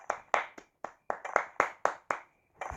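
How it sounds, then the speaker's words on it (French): Hands clap in a steady series of about ten sharp, close claps, each separated by a short pause, with no voices. "J'applaudis."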